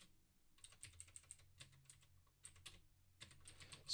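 Keys clatter quietly on a Mac computer keyboard in quick irregular bursts, with a short pause in the middle before the typing picks up again.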